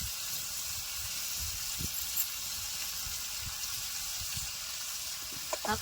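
Sliced onion fries in a hot pan with a steady sizzle and hiss, broken now and then by soft clinks and stirring knocks.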